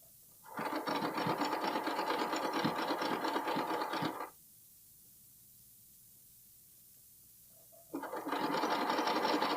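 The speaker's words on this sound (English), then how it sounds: "I'm going to stitch just past it to make sure everything's tacked down" A domestic sewing machine runs in two close bursts while stitching a bralette: a steady whirring run of several seconds, a quiet pause, then the stitching starts again.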